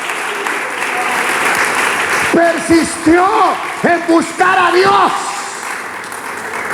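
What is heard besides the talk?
congregation clapping hands in church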